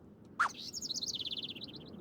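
A bird chirps: one sharp call, then a quick rapid trill of high, twittering notes repeating evenly, moderately close over a soft background hiss.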